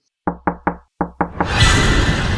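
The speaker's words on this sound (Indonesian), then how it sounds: "mencoba mengetuk" Knuckles rap five times on a wooden wardrobe's double panel, sharp hollow knocks in an even rhythm, close and loud, then a dense noisy wash swells in and continues.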